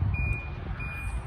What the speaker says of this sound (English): You do get parking sensors as well.